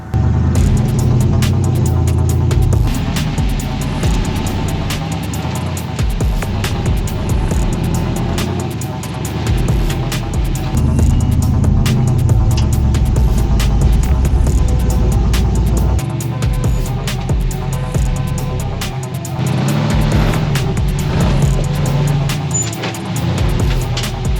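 Off-road vehicle rock crawling on a trail, a loud continuous engine drone and rumble with rattling and wind buffeting, steady and close throughout with no speech.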